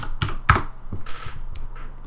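A few quick keystrokes clack on a computer keyboard, close and crisp, in a short irregular burst.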